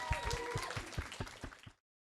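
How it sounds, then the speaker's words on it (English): Audience applause and light cheering at a panel discussion on radical Black imagination: a steady patter of clapping with a few whoops that fades out after about a second and a half, then silence. "Please, let's snap or put our hands together or cheer or woo"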